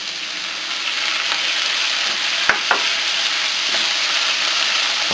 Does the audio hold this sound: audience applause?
no